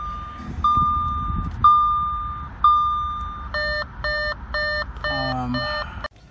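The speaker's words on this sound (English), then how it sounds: "I close all the doors that stop the beeping" Steady electronic door-open warning tone in a 2014 Audi A4, repeating single beeps and then quicker multi-tone chimes, close and clear with a low engine idle underneath.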